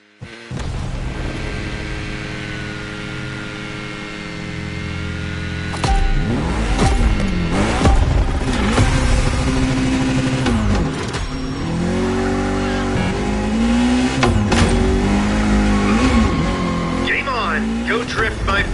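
A Mitsubishi Lancer Evo X drifts in The Crew Motorfest, its engine droning and revving steadily with rising and falling pitch sweeps as the tires slide, up close and continuous, while a voice talks over the driving.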